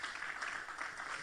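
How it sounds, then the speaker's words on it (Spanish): Congregation applause for the Lord during a church service, a steady, even wash of clapping heard faintly and at a distance, lasting the whole moment with no break. "Denle un aplauso fuerte al Señor por eso."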